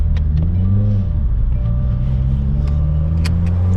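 A 2020 Subaru WRX fitted with a new axle-back exhaust accelerates in third gear, a loud, close engine drone that rises in pitch and holds a deep rumbling tone, with a few sharp pops over it.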